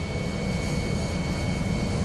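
Twin-engine airplane flying on only one engine after an engine explosion, a steady, loud broadband cabin drone with low rumble and a faint constant tone, continuous and unchanging throughout, no voices.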